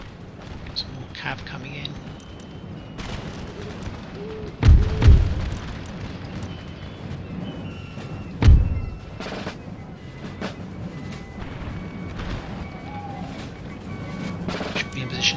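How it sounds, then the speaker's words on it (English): Artillery fires in an Empire: Total War battle played as France with the Darthmod mod: two heavy, booming cannon blasts a few seconds apart over low battlefield rumble, while someone talks throughout. "Let's focus our artillery."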